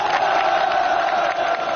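A studio audience at a televised military-camp Spring Festival gala cheers and applauds to welcome a clapper-talk (kuaibanshu) performer, a dense, steady roar of crowd noise lasting throughout.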